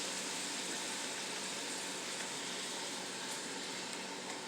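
Crushed garlic sizzles in extra virgin olive oil in a pan as it sautés, giving a steady, even hiss that runs unbroken through the whole stretch with no voices.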